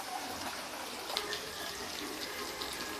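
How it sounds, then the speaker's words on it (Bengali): Water pours into a pan of spiced, fried pointed gourd as a soft, steady splashing rush. It is fairly faint and continuous, with no talking. "এবার এর ভিতর দিয়ে দেব জল।"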